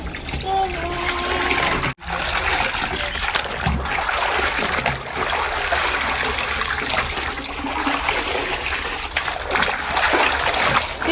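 Water pours and splashes continuously while clothes are being washed at home, a close steady splattering stream with a brief break partway through.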